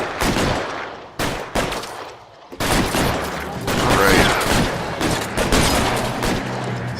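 Gunfire in the L.A. Noire video game, including shotgun blasts, comes as loud, dense bursts of shots, with a brief pause before it resumes heavily through the rest of the passage.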